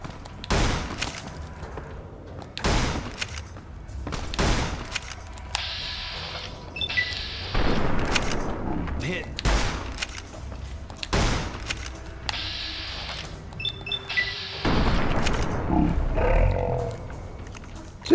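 Gunfire rings out during fighting in Fallout: New Vegas: repeated sharp, loud shots in irregular bursts, some rapid, with short pauses between volleys and reverberating tails.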